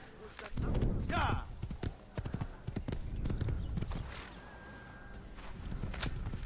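A horse gallops in the Assassin's Creed video game, its hooves pounding in a quick, steady clip-clop close by while someone talks over the hoofbeats.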